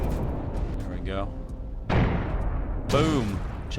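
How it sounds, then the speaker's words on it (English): Explosions in the space-combat game Everspace 2 hit as two sharp, booming bursts about a second apart over a steady background of game noise, with a voice talking over them. "Chunky explosion there."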